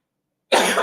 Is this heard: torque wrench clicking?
no